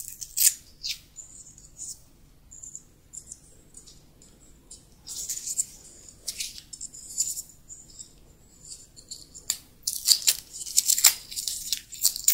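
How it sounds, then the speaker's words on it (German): Adhesive tape peels off aluminium rails while a plexiglass display dome for an AT-AT model is being built, giving several sharp, crackling rips in bursts close to the mic, with no talking. "Ich werde jetzt das Klebeband hier noch einmal entfernen."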